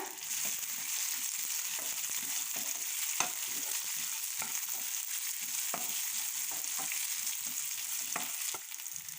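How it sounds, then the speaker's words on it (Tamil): Onions fry with sesame seeds in a pan for a Mysore chutney, giving a steady close sizzle broken by scraping stirs. "இப்போ இது கூட நம்ம கட் பண்ணி வச்சுருக்க ஆனியன் ஆட் பண்ணிக்கலாம்."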